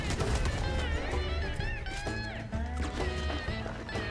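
A horse whinnies in the Red Dead Online video game, a clear high neigh heard over busy game sounds with what sounds like hoofbeats, with no talk over it.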